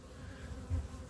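Honey bees buzz around a hive under attack from robber bees, a steady low drone close by and fairly faint, with one brief swell.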